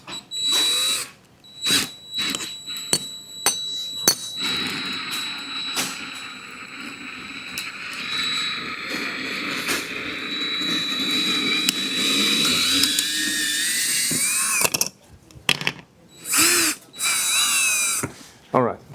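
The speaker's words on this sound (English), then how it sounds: "I'm actually gonna put a wire cutout tool on it" A wire cutout tool slices through the adhesive holding a camera-window bracket during a windshield replacement, giving a steady whining, sawing buzz that runs for long stretches between brief pauses, close up and fairly loud.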